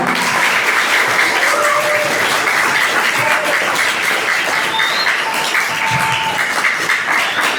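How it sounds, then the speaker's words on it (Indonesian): Lively applause from an audience at a leadership talk, with steady, dense clapping throughout and a few faint voices and whistles over it. "Tepuk tangan yang meriah"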